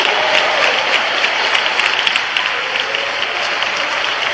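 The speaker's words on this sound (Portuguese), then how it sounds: "batam palmas e glorifiquem ao Senhor" A church congregation claps hands during a Portuguese-language worship service, producing a loud, dense, continuous wash of clapping from many people that stays even throughout, with no voices on top.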